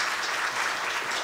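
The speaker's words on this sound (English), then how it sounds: "So big applause for Impact Hub Ankara as well." A conference audience claps steadily in a hall at a closing speech, a dense, even wash of applause at moderate distance with no voices over it.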